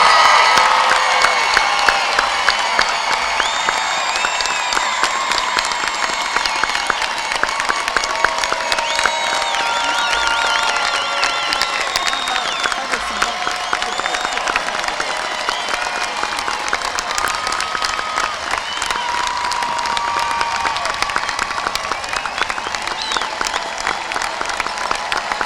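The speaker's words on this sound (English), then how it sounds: "Would you please join me in a round of applause for the Mount Lebanon High School class of" A large audience at the 2019 Mount Lebanon High School commencement ceremony gives the graduating class a long, sustained round of applause, dense clapping mixed with cheers, whoops and shouts across a wide space.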